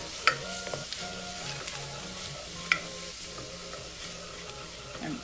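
Coriander, smoked paprika and white pepper frying in a pan, a soft steady sizzle under faint scraping, with two sharp clinks of a utensil against the pan.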